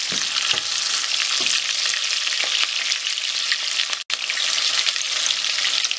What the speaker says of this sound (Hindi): ऑयल के अंदर प्याज डाल दें